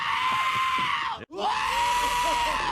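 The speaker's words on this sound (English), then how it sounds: "We had a couple of goats screaming all the time" Goats scream in a loud, strained, nasal wail that holds steady, breaks off briefly, then starts again with wavering bleats. No speech is heard alongside it.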